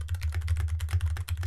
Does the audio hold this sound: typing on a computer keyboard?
yes